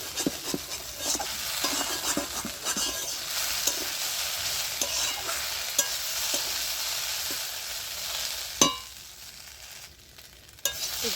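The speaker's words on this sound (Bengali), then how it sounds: "তো আবারও ঢাকনা খুলে আবার একটু নেড়ে চেড়ে দিচ্ছি।" Okra (bhindi) frying in a pan with a continuous sizzle while a spatula stirs it in frequent scraping, tapping strokes, one louder clank near the end followed by a quieter stretch.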